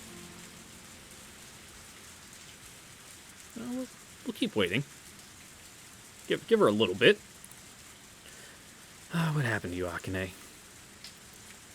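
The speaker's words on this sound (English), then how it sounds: "All I can hear is the sound of rain." Steady rain from the visual novel ONE: Kagayaku Kisetsu e hisses evenly throughout, a soft continuous downpour heard while several short stretches of speech rise over it.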